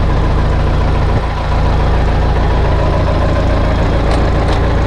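A Mercedes-Benz MB-trac tractor engine runs at a loud, steady idle close by, with a deep continuous rumble, one brief dip early on and faint mechanical clicks near the end.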